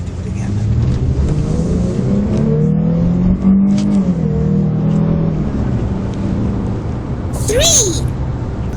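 A Dodge Charger SXT AWD with a V6 engine revs under steady road noise, its pitch sweeping upward and easing back, with a brief rising whine near the end as a person talks over it.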